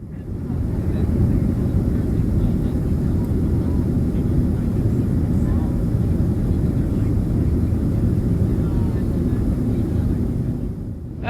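Inside the cabin of a Southwest Airlines Boeing 737 climbing out after departure from Las Vegas, a loud, steady engine and airflow roar fills the whole stretch without letup, easing slightly at the very end.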